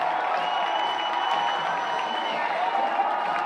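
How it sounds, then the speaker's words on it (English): Baseball crowd in Milwaukee roaring after a walk-off hit, a steady, wide wash of cheering and applause holding at full volume throughout. "this crowd is going wild"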